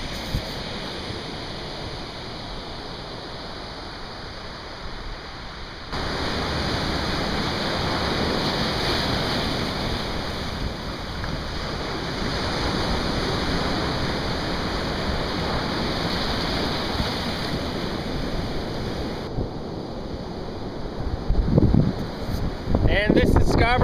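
Surf rolls in at an empty off-season Scarborough Beach in Rhode Island, a broad continuous wash of breaking waves heavily mixed with gusting wind buffeting the microphone, with a louder rumble near the end.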